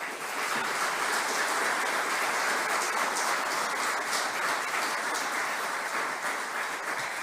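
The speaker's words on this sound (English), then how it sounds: "Let's give them a really big, suitable round of applause." An awards-ceremony audience gives the nominees a long, even round of applause, a continuous dense clapping that stays loud and steady throughout without talk.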